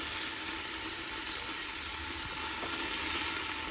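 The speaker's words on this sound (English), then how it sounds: "we want to kind of fry the garlic" Garlic frying in a hot pan, a steady, loud, close hiss and crackle of sizzling oil that carries on without break and with no voices.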